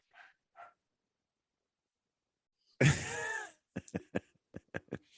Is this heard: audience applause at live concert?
no